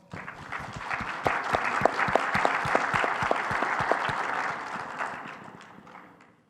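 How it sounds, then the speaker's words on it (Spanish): An audience at a business conference on payment receipts applauds to welcome a speaker, a dense burst of clapping that swells quickly, holds for several seconds and tapers off near the end. "Lo recibimos con un aplauso, por favor."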